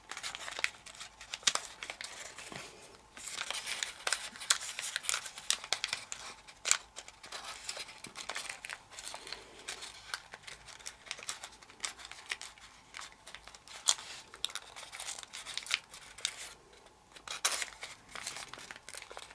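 Origami paper crinkles and rustles in quick, uneven bursts as it is folded and pushed into place for a 3-D tribar, close and fairly quiet, with sharp crisp snaps scattered throughout.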